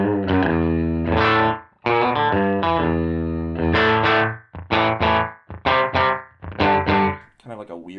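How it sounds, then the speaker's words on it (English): Distorted electric guitar chords and notes through a Dolamo digital delay pedal, with a shimmering, fast-repeating echo effect, played loud and close, sustained phrases then choppier stabs. "Kind of like a weird, super fast reverb."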